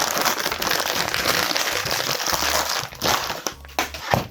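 Continuous loud crinkling and crushing of the plastic bag wrapped around a PLA 3D printer filament spool, handled up close with irregular rustles and brief pauses.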